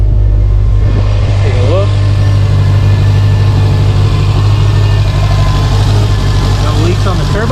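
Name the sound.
Subaru STI Type RA engine first start and idling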